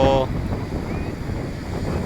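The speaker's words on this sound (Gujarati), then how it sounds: "અરબી સમુદ્ર ઘૂઘવાટા મારે છે" Rough Arabian Sea surf with a strong current surges onto Shivrajpur beach in Gujarat during the monsoon, a steady loud wash of rolling water and wind rumble after a brief voice at the start.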